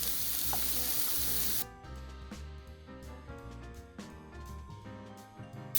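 Shaved Brussels sprouts sizzle in a hot pan with a loud hiss for the first second and a half, then settle to quieter crackling and stirring clatter alone.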